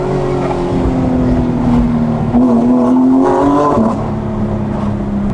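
Porsche 991 GT3 with a Soul Performance exhaust and E85 tune revving hard and accelerating, a loud rising engine howl heard from inside the car with the windows down.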